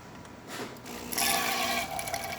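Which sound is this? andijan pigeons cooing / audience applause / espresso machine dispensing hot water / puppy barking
espresso machine dispensing hot water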